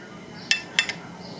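Three quick, light clinks of cutlery against dishes in a kitchen while slices of seared sesame-crusted tuna are lined up, faint and close, with a soft background hush.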